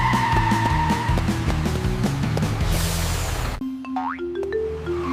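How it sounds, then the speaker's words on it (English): A cartoon bus pulls in with a busy engine rumble, tire skids and springy boing effects, then cuts to lighter whistling slide and pop sound effects; loud and close, with no talking. "Here it comes! Benny's bus is right on time."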